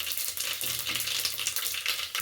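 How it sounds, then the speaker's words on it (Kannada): Cumin seeds hitting hot oil in a home kitchen pan while cooking a green pea gravy, giving a steady close crackling sizzle with a faint low hum underneath, continuous and without pauses. "ಇವಾಗ ನೋಡಿ, ಜೀರಿಗೆ ಹಾಕ್ತಾ ಇದ್ದೀನಿ"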